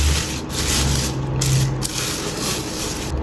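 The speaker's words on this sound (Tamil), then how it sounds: "ஸோ அன்பேக்கிங் பண்ணிடலாம்." Continuous scraping and rubbing of cardboard and plastic as the packaging of a Fifine K669B USB microphone is opened, close and fairly loud with a few brief rustling breaks.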